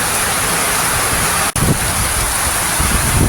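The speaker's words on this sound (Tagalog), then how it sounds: "Ayan. Medyo malakas ang ulan." Fairly heavy rain falls steadily outdoors near farm fields, a loud, continuous wash of broadband hiss with a brief dropout partway through and no voices.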